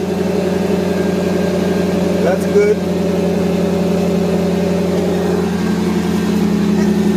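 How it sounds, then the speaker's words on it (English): A 1982-92 Firebird or Camaro engine idles with a quiet exhaust, giving a steady, even low hum close by, while someone speaks briefly over it. "And I'll show you the exhaust. It's quiet as can be."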